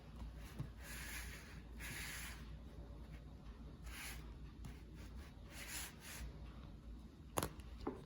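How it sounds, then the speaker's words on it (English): Pencil eraser rubbing across a graphite drawing of a mouth to lift out a white highlight, a soft, quiet scrubbing in repeated short strokes with brief pauses, close and alone. "now you can go in with your eraser and you can create this nice white gleam"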